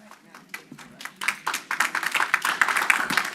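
Audience applause at a city council meeting, scattered claps that build into fuller, steady clapping from a room of people, fairly close and lively, with no talking over it.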